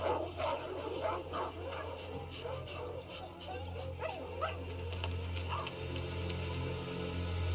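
A cartoon dog barks and yips in short bursts, with a few whimpers, over a steady low musical hum and some background voices.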